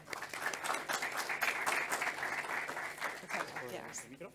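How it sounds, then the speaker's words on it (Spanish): Applause from a conference audience as a speaker takes the stage, a dense patter of many hands clapping steadily at moderate distance, fading slightly toward the end. "Un aplauso, por favor."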